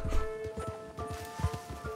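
A horse walks in Red Dead Online, its hooves making a steady, rhythmic clip-clop of close, thudding steps over a faint tonal game background for two seconds, with no speech.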